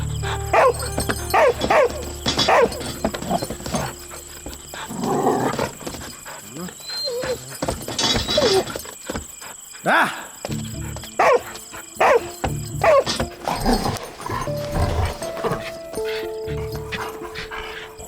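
A dog barks in short bursts during a dramatic Malayalam film scene, mixed with tense spoken dialogue and background music.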